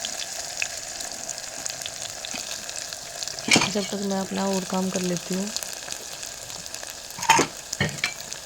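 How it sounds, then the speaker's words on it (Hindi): Sliced onions fry in hot ghee in a home kitchen pan, a low background sizzle punctuated by a burst of stirring scrapes and crackles midway, while someone talks over it. "अब मैंने डाल दिए थे प्याज। ये जब तक ब्राउन होते हैं थोड़े से,"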